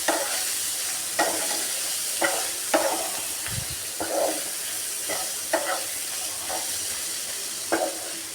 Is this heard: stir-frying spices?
yes